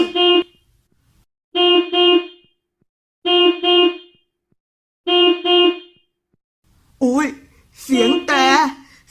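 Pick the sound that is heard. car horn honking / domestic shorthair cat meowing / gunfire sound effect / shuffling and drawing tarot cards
car horn honking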